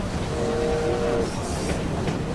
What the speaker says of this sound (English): Oh, well, it's a noisy train.